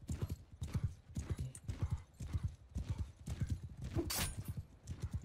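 Horse hooves clip-clopping in a steady galloping rhythm in the Mount & Blade II: Bannerlord battle game, close and continuous with a brief whinny, someone speaking faintly over it.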